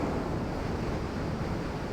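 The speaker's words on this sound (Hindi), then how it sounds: "ये ग्लेशियर वाला पानी है जो बह के आ रहा है।" A glacier-fed river in the Jammu region flows with a steady, dense rushing roar, constant and fairly faint, with no voices.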